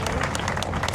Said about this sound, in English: He gets a great cheer from the crowd as well in the sunshine